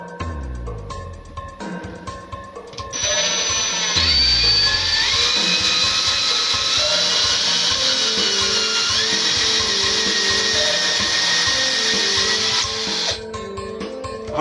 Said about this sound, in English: we are drilling into the ceiling, as you do